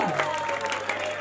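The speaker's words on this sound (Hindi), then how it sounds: "ताली बजते रहना चाहिए।" Audience clapping at a Saraswati Puja event and cyber crime awareness camp, a steady burst of applause from a crowd with a voice speaking over it.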